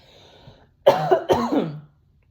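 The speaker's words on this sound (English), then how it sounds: "I'm about to cough. My throat's itchy." Two or three quick, rough coughs close by, following a brief quiet pause, then silence.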